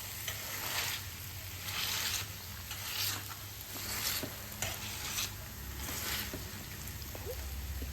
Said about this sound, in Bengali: এটা সেদ্ধ হয়ে গেছে, স্ম্যাশার দিয়ে এটাকে স্ম্যাশ করব। এরকম প্রেস করে করে এটাকে স্ম্যাশ করে নেব।